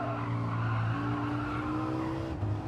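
Race car tyres skid and squeal through a corner in Gran Turismo on the Tokyo South track, a steady engine drone with tonal squealing held for a couple of seconds, no talk.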